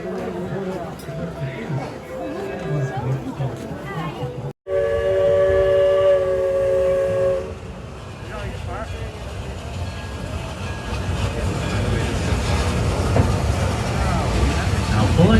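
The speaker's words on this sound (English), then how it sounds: "Now pulling this train today is a steam locomotive." A geared steam locomotive pulls a tourist train at Santa Cruz, with rumbling running noise, a loud multi-tone whistle blast for several seconds after a brief cut, and people talking throughout.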